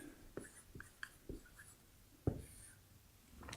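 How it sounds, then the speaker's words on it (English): Marker or pen strokes writing the word income at the top of a drawn box for a rental property calculation, heard as a few short scratchy strokes spaced apart, close and fairly quiet with no talking. "So I'm gonna go ahead and write this at the top"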